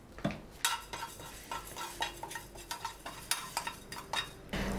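Cumin seeds roasting in a pan for rasam, stirred with a spoon: repeated scraping and rattling strokes against the metal in an irregular rhythm, close and moderately loud, no voices.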